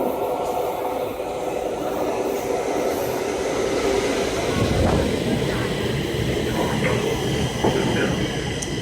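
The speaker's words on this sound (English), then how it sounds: "I think this is our train coming now." A train pulls in with a loud, rising rumble of wheels on rails and some squealing, close by, while people talk faintly under the noise.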